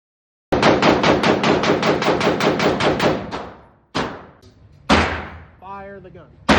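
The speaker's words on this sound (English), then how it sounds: "Fire the gun. Fire when ready." Gunfire at a shooting range, where a rapid burst of about fifteen loud, evenly spaced shots gives way to two more single, separated blasts that ring out and fade, followed by a short voiced sound near the end.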